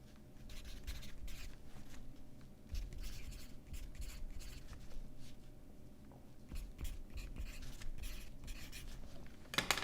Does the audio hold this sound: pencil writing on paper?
yes